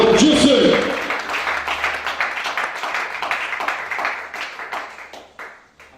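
A church congregation bursts into applause and cheering, loud and dense at first, then thinning into scattered claps and fading out, with voices mixed in.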